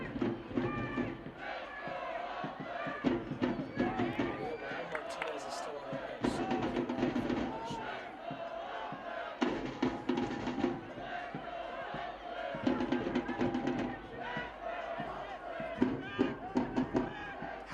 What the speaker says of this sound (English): crowd trying to push the Roots on here